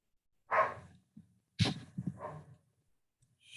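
A pet dog indoors at home gives two short, sharp barks close by, separated by a brief pause, with a fainter trailing yelp at the end and no talking.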